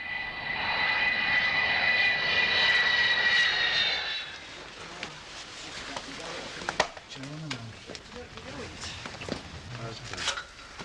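Avro Vulcan bomber jet engines, a loud broad roar with a high whine for about four seconds that then fades away, followed by a narrator talking over quieter background sounds.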